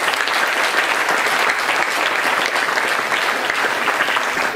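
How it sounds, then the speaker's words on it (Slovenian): An audience at a quiz evening breaks into steady, full applause, many hands clapping evenly and continuously without pause. "En aplavz, prosim."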